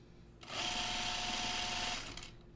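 Sewing machine stitching bias binding onto a top, a close, fast whirring run of needle strokes that starts abruptly, holds steady for about a second and a half, then winds down.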